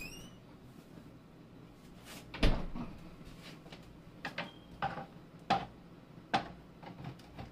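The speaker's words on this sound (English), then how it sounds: "Chopping and shredding here." A knife chops and shreds scallion on a cutting board in a home kitchen, sounding as a series of sharp, separate knocks and taps, some louder than others, spaced irregularly against a quiet background.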